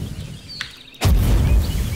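A fire explosion particle effect set off on the ground in Unreal Engine. One sudden loud boom bursts in halfway through and roars on as a sustained rumble.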